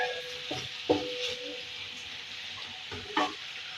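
Chopped onion, tomato and green chillies fry together in a pan, with a continuous close sizzle and two sharper utensil knocks against the pan as the mixture is stirred, no voices.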